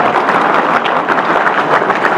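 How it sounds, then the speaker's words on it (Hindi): A Hindi poetry gathering on a Republic Day evening, its audience applauding in a steady, dense wash of clapping that stays loud and even throughout. "जरा जोरदार तालियां होनी चाहिए।"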